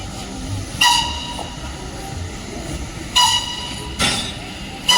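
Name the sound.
train returning with locomotive reversed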